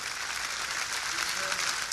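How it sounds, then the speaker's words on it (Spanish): Church congregation clapping in worship, a brief dense burst of steady applause with faint voices mixed underneath. "denle un aplauso a la adoración a nuestro Dios"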